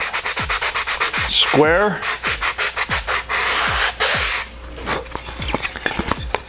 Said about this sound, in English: Okay, now we got that trimmed. I'm gonna sand that